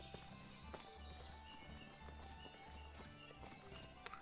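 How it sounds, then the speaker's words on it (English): Hooves of a summoned horse clip-clop steadily in Medieval Dynasty, a medieval village life game, in an even walking rhythm close by, with a faint whinny and ambient game sounds around them. "if you want to summon your horse, you hit G. And, there it is."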